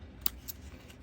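Scissors snip through paper while trimming material for a mini folio made with antique seed and flower ads, two quick close cuts in a quiet room.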